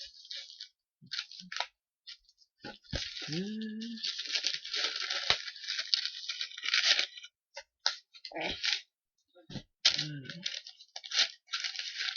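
Packing tape rips off a cardboard parcel in bursts of harsh, crackly tearing, some long and some short, close up, with a voice speaking between the pulls.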